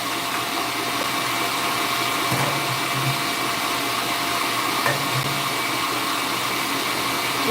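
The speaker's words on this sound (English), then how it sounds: "Whisk attachment. High speed." A high-speed electric mixer with a whisk attachment runs as a loud, steady whir that barely changes over several seconds, with no voices.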